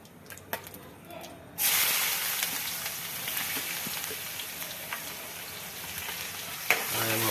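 Green onions hit hot ghee for eggplant oro, bursting into a loud sizzling hiss after a brief quiet start, then settling into a steady frying crackle with a few stirring knocks near the end.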